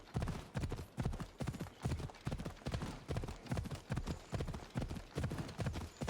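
Horse hooves clip-clop in a steady, rapid rhythm throughout, close and fairly loud, as a mount trots along in the Assassin's Creed Odyssey video game.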